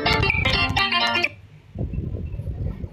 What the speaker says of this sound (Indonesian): Suara HP.